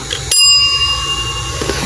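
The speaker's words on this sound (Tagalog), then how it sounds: "Nasaan na yung bell?" A bicycle-style bell rung once, sharp and close, during an indoor cube game, its bright metallic ring fading over about a second.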